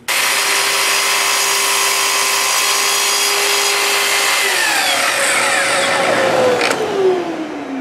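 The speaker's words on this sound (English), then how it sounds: "I'm going to do it on the miter saw" A miter saw cuts wood pieces flush, the motor running at a steady loud whine before the blade slows and winds down near the end; close by, with no talking.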